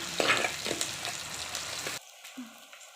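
Onions and garlic sauté in oil for village-style vegetable sambar, a close, steady frying sizzle with light stirring that cuts off abruptly after two seconds to a faint quieter tail.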